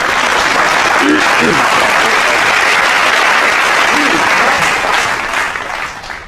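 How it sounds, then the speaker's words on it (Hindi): Loud, dense audience applause at a live Hindi political debate event, steady and sustained for about six seconds before tapering off at the end. "एक बार तालियां बजा दीजिए, मैं शुरू करूँ।"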